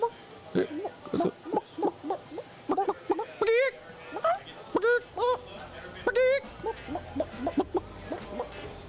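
People imitate a chicken with their voices, making a quick run of clucks and rising squawks over about nine seconds, with brief gaps between the bursts.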